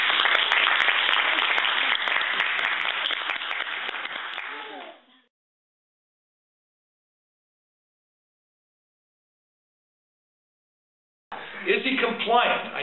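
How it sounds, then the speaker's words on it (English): Applause at an assistive technology workshop, a dense run of clapping for about five seconds that fades out, then silence, with a voice speaking when sound returns near the end. "let's give him some applause"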